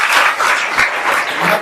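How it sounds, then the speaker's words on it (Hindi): An audience at a school legal awareness camp claps for a student, a brief burst of dense, close applause. "इस बच्चे के लिए तालियां बजाइए आप लोग"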